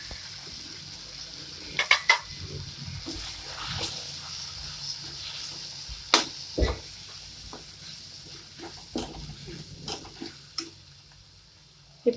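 Spices sizzling and frying in a hot pan while making lentil dumpling curry, with intermittent clinks and scrapes of a spoon stirring against the metal.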